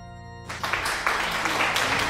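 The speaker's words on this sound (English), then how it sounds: "Applause sound." A sudden burst of crowd applause rises after a brief musical tone in Undertale Yellow, loud, broad clapping sustained for under two seconds.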